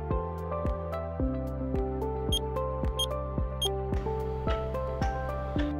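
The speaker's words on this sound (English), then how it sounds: "the motor beeps 3 times and makes 1 movement" A MultiShade awning motor gives a short series of sharp clicking beeps while it is set to its lower limit. The evenly spaced ticks carry over a steady low hum, with no talking.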